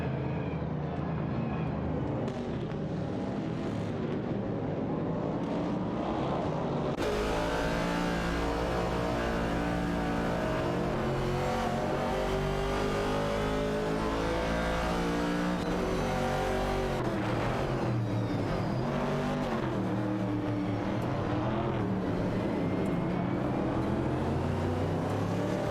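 Race cars in an AI-driven racing simulation roar steadily, engine tones rising and falling as cars shift and pass, with a louder surge of several engines joining partway through and no pause in the droning.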